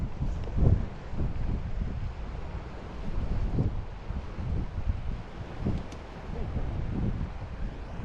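Strong wind buffets a campsite on a deserted island during a squid fishing trip, with gusty low rumbling bursts on the microphone and a distant wash of sea beneath.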